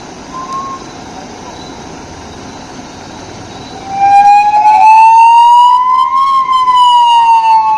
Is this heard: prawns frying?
no